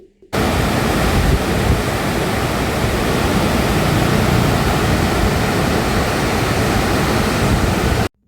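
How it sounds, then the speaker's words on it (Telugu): The Krishna river pours through the Dindi reservoir in a loud, continuous hiss and roar, broad and unbroken from start to end and heard close up, with no voices. "గలగలా పారుతున్న కృష్ణమ్మ సౌండ్ కూడా చాలా వినసొంపుగా ఉంది"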